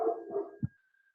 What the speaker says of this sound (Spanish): Los voy a matar a estos perros.